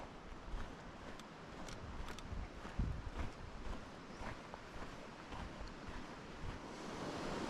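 The New River runs at high flow, a steady broad rush of water heard up close outdoors, with light wind buffeting on the microphone and no talking.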